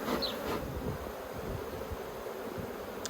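Steady low buzzing of many honeybees around an open hive, close and continuous, with a faint rustle of movement throughout.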